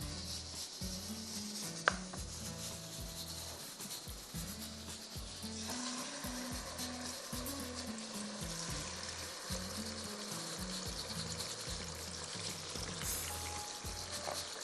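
Marinated meat for Hyderabadi pasanday frying in a pan, giving a steady, close sizzle that runs unbroken throughout with no voices.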